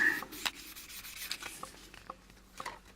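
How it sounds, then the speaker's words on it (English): Sandpaper rubs back and forth along the edge of a plastic model kit part, short close scratchy strokes in an uneven rhythm. "And then let's just sandpaper this edge here."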